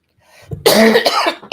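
A single harsh, close cough, preceded by a faint breath and followed by the start of another.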